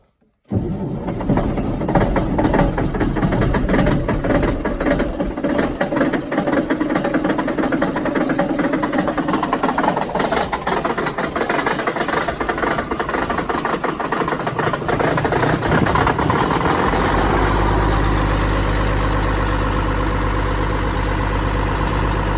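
A bulldozer engine cranks and catches after a brief silence, then runs with a loud, rough diesel rumble that shifts into a steady, lower idle near the end.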